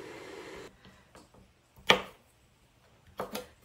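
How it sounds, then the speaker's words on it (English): Green beans are cut with a knife, with a few sharp, close chopping thuds spaced apart and quiet gaps between them. "And I'm just gonna cut these up into the right size to fit in our jars nicely."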